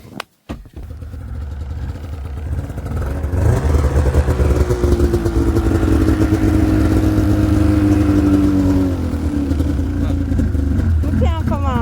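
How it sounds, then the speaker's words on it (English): A snowmobile engine sputters with a few clicks and knocks, then catches and settles into a loud, steady, close running drone during a snowstorm. "Start up the snowmobile?"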